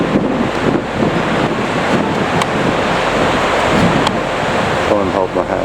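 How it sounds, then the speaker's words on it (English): Strong wind blowing by the sea on the Normandy coast with surf washing in, a constant roaring rush buffeting the microphone throughout and no one speaking. "it's a bit windy today"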